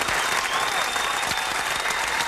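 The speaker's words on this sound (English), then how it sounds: "Keep the applause going" Studio audience applause during a television talk show, dense continuous clapping heard up close and at an even level throughout.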